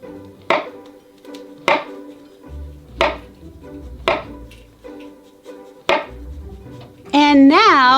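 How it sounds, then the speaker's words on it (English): Knife slicing through a banana onto a hard board, six evenly spaced crisp taps with soft cuts between, close and clear, followed by a voice speaking. "We're going to take this banana and cut little slices like this."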